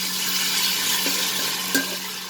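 Ginger garlic paste fries with partly cooked onions over a lowered flame, making a steady moderate sizzle with a couple of faint stirring knocks near the end.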